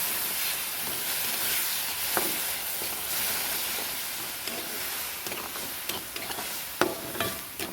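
Semolina with sugar and milk cooks in a pan after a splash of water, giving a steady hissing sizzle with occasional scrapes and clicks from stirring, heard alone at close range.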